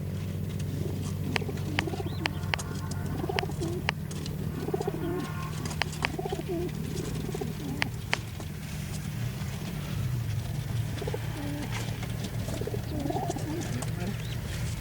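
Racing pigeons at a toss point coo in low, repeated rolling calls against a steady engine hum, while people talk nearby.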